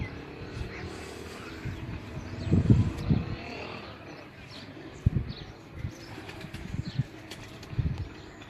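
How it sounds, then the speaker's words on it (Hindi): A pigeon sits on a rooftop loft, giving soft, low coos in a few scattered bursts. The calls are faint against quiet outdoor background noise. "ये अभी इनका कबूतर बैठा है"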